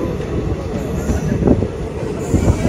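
A train pulls into Madar Junction railway station, its wheels rumbling and clattering with faint squeals, fairly close and steady throughout, while crowd noise murmurs from the platform.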